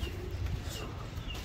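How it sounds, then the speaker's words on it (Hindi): Soft, low fantail pigeon cooing over a steady background hum, faint and continuous with no clear breaks. "जी ये है फैंटेल पिजन, लकी कबूतर।"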